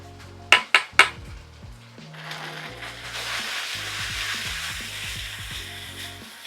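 Chicken frying in a pan for orange chicken, three sharp metallic clanks of utensil on pan followed by a steady, close sizzle, with a low hum running beneath.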